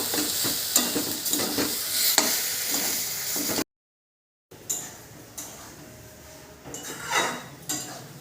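Sattu being sautéed in a pan for a rural Bengali dish, a steady close sizzle broken by scraping stirs and clinks of a utensil against the pan, with a short silent gap partway through.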